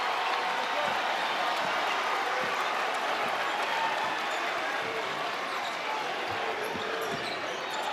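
Basketball arena crowd during a fourth-quarter game at The Basketball Tournament, a steady loud roar of cheering and noise with sneaker squeaks and ball bounces throughout, no clear talk.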